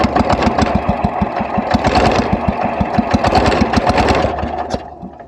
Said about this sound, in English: Whenever I put the engine under load and then going up a hill or something,